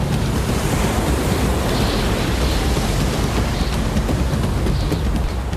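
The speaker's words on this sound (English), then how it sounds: "This footage from last winter shows the pier engulfed by waves." Winter storm waves crash over Doolin Pier, a loud, continuous roar of surf mixed with heavy wind buffeting the microphone, no voices.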